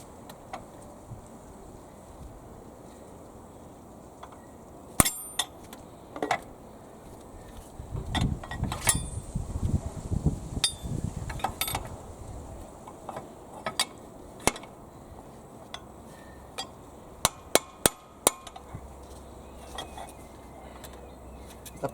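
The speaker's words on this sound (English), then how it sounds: "I'm still just kind of whacking at it here" Irregular metallic knocks and clanks from hammering at a water pump being removed from a 2000 Chevy Blazer 4.3L V6, scattered sharp hits and a denser cluster of rattling blows in the middle, with quiet gaps between.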